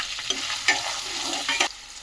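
Onion and green chili fry in hot oil with turmeric, a close crackling sizzle broken by a few quick stirring scrapes, with no speech.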